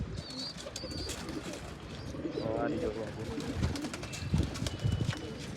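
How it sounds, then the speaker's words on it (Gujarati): Several domestic pigeons coo with soft, throaty, repeated calls nearby, mixed with chirps, while people talk over them. "અને જો ગાટા મારે છે બધા કબૂતર."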